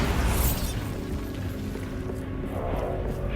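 A Bombarda spell explodes in Hogwarts Legacy with a deep, loud boom that rolls into a sustained low rumble and fades slowly, with no talk.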